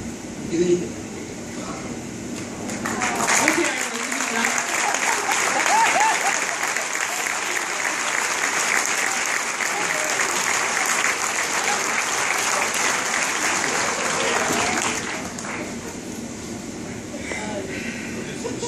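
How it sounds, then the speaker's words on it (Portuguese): Audience applause after a speech at an event honouring Juanito and Vicky, a dense, sustained burst of many hands clapping that swells near the start and holds steady for about twelve seconds before easing, with a low hum throughout. "Um aplauso."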